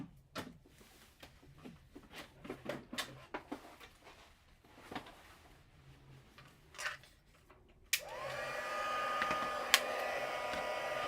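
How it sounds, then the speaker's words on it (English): A heat tool for heat embossing a Stampin' Up! Christmas card switches on after scattered light tapping and handling, then blows as a steady, close whirring hiss. "I'll come in with my heat tool."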